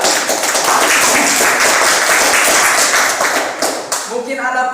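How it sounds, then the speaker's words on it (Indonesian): A classroom group claps for group 3 with loud, close, somewhat uneven clapping that fades toward the end as a voice starts speaking. "beri tepuk tangan untuk kelompok"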